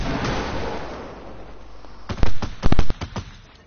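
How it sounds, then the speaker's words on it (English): Gunshots in a video game ring out after a quiet stretch of low noise, a few loud sharp cracks clustered near the end with short gaps between them. "Harvey, you shot me for 110 as if you're reloading your guns"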